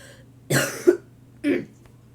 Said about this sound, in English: So, struggling with the cough